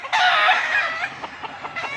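Roosters crow and cluck loudly and close by on an evening farm, one strong crow at the start followed by shorter clucks.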